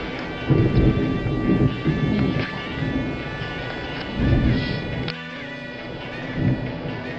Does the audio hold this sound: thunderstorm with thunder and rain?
yes